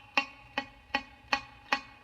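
A guitar string muted by a finger laid across it gives five short, dead thuds at an even, steady pace, quiet and alone, with no ring after each one.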